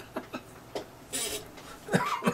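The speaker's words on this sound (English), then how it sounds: "lingering cough from my cold or flu or pneumonia or whatever I had over the holidays" Several short, sharp coughs from a person with a lingering cold, scattered and irregular, each a quick breathy burst heard up close with no talking.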